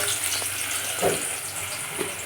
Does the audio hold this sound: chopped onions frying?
yes